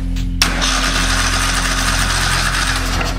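A Kohler Command engine with a bad camshaft, choke held, catches abruptly after a short crank and settles into a loud, steady, close-up running drone.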